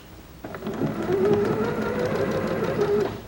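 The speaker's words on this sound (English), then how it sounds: "we can just lower the presser foot and stitch" Domestic sewing machine stitching quilt fabric with a 1/4 inch presser foot, a steady close mechanical whir that starts after a brief pause and runs evenly to the end.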